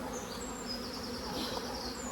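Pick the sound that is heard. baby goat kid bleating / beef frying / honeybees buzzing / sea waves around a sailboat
honeybees buzzing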